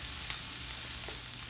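Garlic cooks in a pan, giving a brief, steady soft sizzle with a few light crackles, close and quiet, with no voices.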